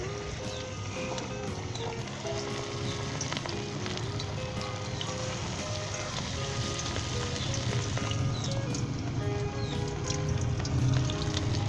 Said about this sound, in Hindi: हमारा ऑयल भी अच्छी तरीके से गर्म है, तो इसे मीडियम हीट के ऊपर हमने पकाना है।